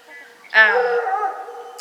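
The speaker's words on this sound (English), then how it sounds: "I'm going to apologize ahead of time for the dogs barking in the background" A single dog gives a loud, drawn-out howling bark up close, a brief yip just before it, with nothing else around.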